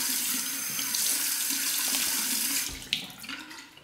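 Tap water gushing into a sink during a quick face rinse while shaving, a steady close rush that cuts off abruptly near the end, followed by a small splash.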